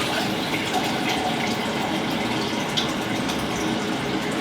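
Two liters of stock poured into a soup pot of minestrone, a steady gushing splash of liquid running continuously and fairly close, with no talk.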